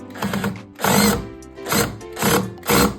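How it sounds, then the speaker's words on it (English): A power drill drives screws into a kitchen shelf, whirring loudly in about five separate bursts with short pauses between them, close and alone. "you grab the drill and you start screwing them in"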